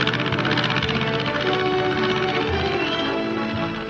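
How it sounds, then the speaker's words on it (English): A single-engine airplane flies low over plateaus and canyons near the village of Mosquero in 1951, its loud, steady propeller-engine drone throbbing evenly throughout and fading slightly at the end. "the sound of an airplane can be heard. A single motor ship flying low."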